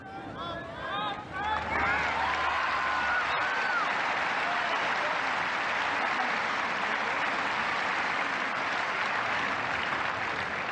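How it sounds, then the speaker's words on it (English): Big crowd at the 1983 Wimbledon men's singles final cheering and applauding loudly and steadily, a dense roar of clapping that swells early and holds throughout, with a little whistling at the start. "And an equally big cheer for the 1981 Wimbledon champion."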